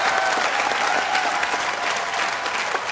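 A studio audience on a Kannada game show bursts into loud, dense applause that holds steady and close for the whole stretch.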